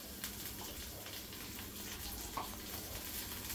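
Eggs dropped into a curry in a hot pan give a steady soft sizzle and bubbling, close and low in level, with no talking.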